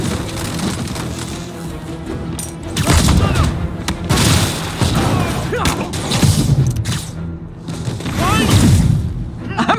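Gunfire and explosive booms in a busy Marvel's Spider-Man combat scene, with repeated bursts and heavy thuds rising and falling under game voices and music.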